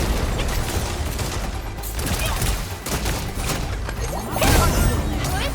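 Sustained gunfire rattles in a dense, continuous fusillade with crashing impacts, loud and close, swelling into a heavier burst near the end, with a voice faintly underneath.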